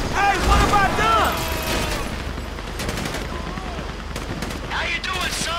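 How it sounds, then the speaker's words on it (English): Bursts of gunfire in the video game GTA V crackle in rapid volleys under shouting voices, with sharp repeated shots returning near the end. "You hear that gunfire?"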